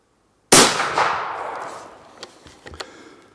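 A single loud, close rifle shot from a Blaser K95 single-shot rifle firing a 168 grain bullet at a target on a range, with a sharp crack that rings out and decays over about a second before a few faint clicks.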